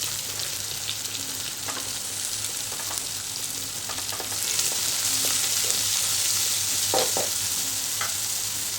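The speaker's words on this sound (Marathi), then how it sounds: "आणि आपल्याला आता कांदा घालायचा" Finely chopped onions frying in a pan for mushroom masala gravy, a continuous close sizzle with scattered scraping stir clicks, louder in the second half, no voices.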